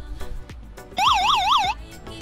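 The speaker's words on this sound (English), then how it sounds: "I have a radio right here that has an alarm." A warbling electronic alarm siren from a radio wails up and down in a steady rising-falling pattern for under a second, loud and close, amid background noise.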